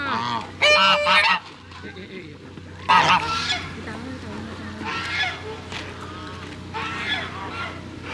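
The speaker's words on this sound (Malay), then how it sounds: "Inilah angsa yang kacau bing tu" Geese honk repeatedly, with loud brassy calls early and fainter honks later, over a constant low drone and background chatter at Bukit Jelutong Eco Community Park.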